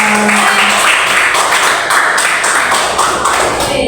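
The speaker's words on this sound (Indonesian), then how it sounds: "kita kasih aplaus yang meriah untuk Pak Iqbal" Audience at a school staff session clapping, a dense, continuous burst of applause from many hands, loud and close, with no talking over it.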